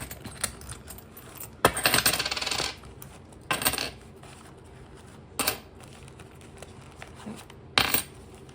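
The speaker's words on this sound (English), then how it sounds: "starting off, I've got some coins." Coins are pulled from a wallet and dropped onto a hard surface, giving several bursts of clinking, jingling metal with one longer rattling spill, spaced apart and close by, with no voices.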